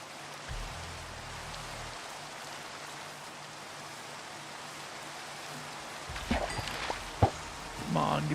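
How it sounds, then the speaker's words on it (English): Steady rain in the video game Minecraft hisses as an even, soft wash of noise, with a low hum early on and a person talking over it toward the end. "Hey, once it's raining, we're here fishing."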